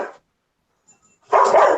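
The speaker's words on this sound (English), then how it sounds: "Angry dogs." Angry dogs bark in a loud, close burst near the end, after a brief yelp at the start and a stretch of near silence.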